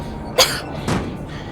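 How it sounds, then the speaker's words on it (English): A single sharp cough in the video game Modern Warfare, followed about half a second later by a softer second cough, close and clear over a quiet background with no talking. "They'll hear you coughing."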